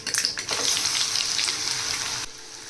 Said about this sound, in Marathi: लगेच इथे मी डाळ ॲड करणार आहे